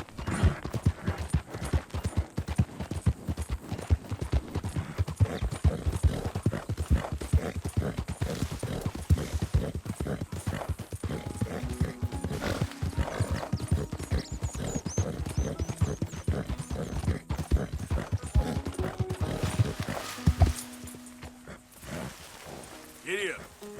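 Horse hooves gallop in rapid, steady clip-clop in Red Dead Redemption 2, close and prominent with a brief whinny, slowing near the end, while a voice speaks briefly over it.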